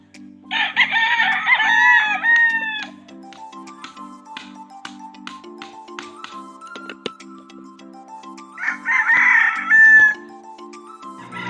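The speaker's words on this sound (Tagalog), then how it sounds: "medyo nangingilan-ilan na rin po ang mga manok dito" Two loud rooster crows ring out close by, several seconds apart, over steady background music and a few scattered clucks.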